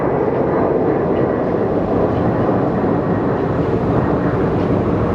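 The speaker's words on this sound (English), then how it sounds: "That is a steep takeoff by the MD-11." An MD-11 jet climbing steeply on takeoff from Sky Harbor airport, a loud, continuous broadband engine roar with no gaps, heard from nearby.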